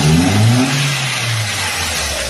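A Ford Ka with a Zetec Rocam engine, suspected of a timing chain noise from the hydraulic tensioner, revs loudly and close up, its pitch climbing and then settling into a sustained high engine drone.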